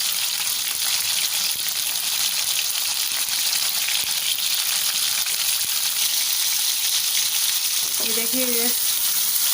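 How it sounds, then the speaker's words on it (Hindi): Chicken and mutton seekh kebabs fry in a pan with an unbroken, loud, even sizzle, while a voice speaks briefly near the end. "अच्छे से फ्राई हो गई है।"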